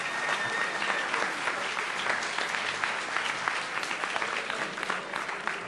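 An audience at a physics tournament final in Brazil applauds the finalist teams, with steady, dense clapping throughout, close and sustained with no voices over it.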